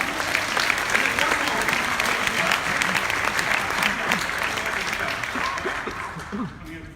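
Audience applauding steadily for several seconds, dense close clapping that tapers off at the end, with some voices underneath.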